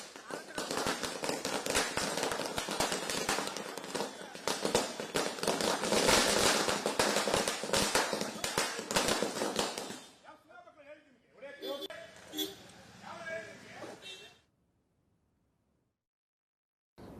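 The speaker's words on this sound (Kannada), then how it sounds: "ಬೆಂಬಲಿಗರು ಸಂಭ್ರಮದಿಂದ ಪಟಾಕಿ ಸಿಡಿಸ್ತಾ ಇರೋ" Supporters celebrating outside a politician's residence set off firecrackers in a dense string of sharp, overlapping bangs that crackle for about ten seconds, then scattered pops follow before the sound drops to near silence.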